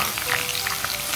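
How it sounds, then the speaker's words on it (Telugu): Green and dried red chillies sizzling in hot oil for a tempering, with a loud, close, continuous hiss and crackle across the short stretch. "అది కొంచెం వేగాక మన ఎండి మిరపకాయలు కూడా వేస్తున్నా."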